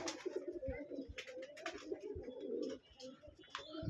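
Pigeons coo steadily inside a home pigeon loft, breeding birds and young squabs nearby, a layered chorus of soft throaty calls with a few sharper clicks and rustles, close and continuous.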